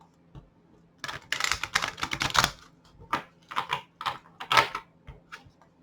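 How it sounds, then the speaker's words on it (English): Quick papery riffling of a large deck of cards being shuffled close by, in several short bursts with brief pauses between, no talking. "Try to shuffle. This is a huge deck,"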